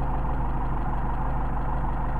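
A Mercedes 190SL engine idles steadily during Solex carburetor adjustment, a loud, even low rumble close by with no talking.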